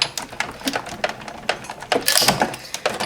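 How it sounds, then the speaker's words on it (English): A die-cutting machine cracks and clicks as warped metal plates are cranked through it, giving close, irregular sharp snaps and crackles over a steady rolling rumble. "The cracking that you hear, that's normal. Nothing is breaking, that's just how the machine works."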